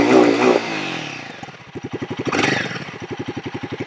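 A Royal Enfield Guerrilla 450 motorcycle revs up from a rough rumble into a fast, rhythmic engine pulse that rises and stays loud, heard up close with no talking.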